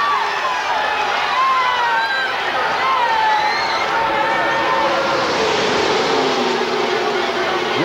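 A crowd of 170,000 at a NASCAR race roars and cheers continuously while stock cars race past, a loud, dense wall of noise under a commentator's excited talk.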